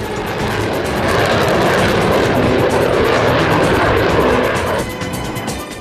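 F-14 Tomcat fighter jet with twin GE turbofan engines, a loud sustained roaring jet rumble close by that swells and then eases off near the end.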